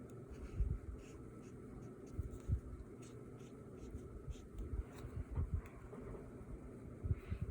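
Pen scratching across paper while shading comic book cover art; repeated short strokes in irregular bursts, close and fairly quiet, over a low background hum.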